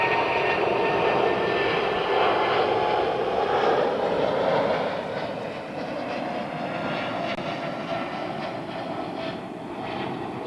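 A Saudi Boeing 777 at London Heathrow Airport produces a continuous, loud jet engine roar that fades slightly midway and then holds steady, with no talking.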